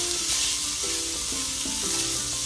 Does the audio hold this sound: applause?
no